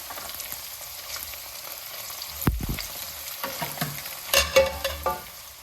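Thinly sliced fresh garlic drops into hot oil and fries with a steady crackling sizzle, punctuated by a few louder clatters and stirring scrapes in the pan.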